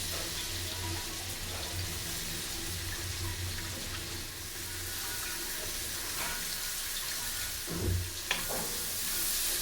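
Butter sizzling in a pan as onions and tomatoes sauté for hotel-style butter chicken: a continuous close hiss and crackle, with a few louder spits and pops toward the end.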